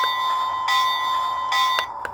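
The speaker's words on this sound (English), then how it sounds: "And that's what the bell sounds like." Ringing electronic bell from a Lionel O-Gauge Iron Arry toy train, a steady metallic tone with repeated strikes, a couple of sharper clangs toward the end, close and alone without talk.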